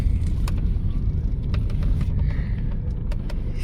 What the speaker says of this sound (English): the transmission, as you just noticed, it didn't kill the car when I pulled in